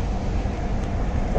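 Steady rumbling of a passenger train running on rails on the Bangalore to Mangalore line, a continuous loud low roar filling the whole stretch with no speech.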